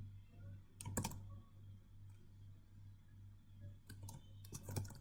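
Keys clicking in a short burst on a computer keyboard as a file path is entered in RStudio, followed by a quiet pause and two more quick bursts of typing, close and fairly soft over a low steady hum.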